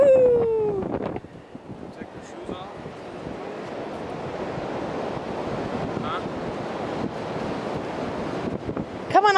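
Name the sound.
ocean waves on the beach at Myrtle Beach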